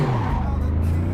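Race car in the video game Assetto Corsa at Spa, a brief loud engine drone whose pitch drops steadily over about a second, with a faint tire hiss.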